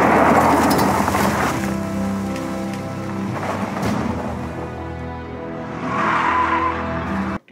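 A car peels away with its tires skidding in the middle of a heavy rainstorm, with steady rain and rumbling thunder heard throughout.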